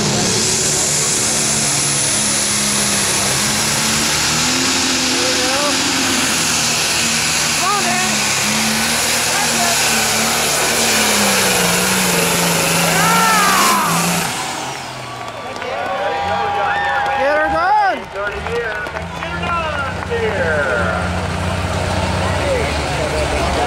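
A pro stock pulling tractor called Get Her Done roars loudly and steadily at an NTPA truck and tractor pull at a county fair, its engine note rising and falling, then fading somewhat near the end, with an announcer talking over it.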